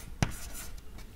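Handwriting on a surface, one sharp tap as the pen meets it followed by faint scratchy strokes, quiet and close with no speech.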